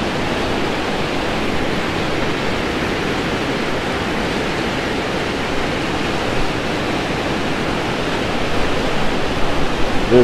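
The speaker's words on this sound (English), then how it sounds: "But this creek is amazing." Creek water rushing steadily past a covered bridge, a loud, even wash of flowing water with no breaks and no voices.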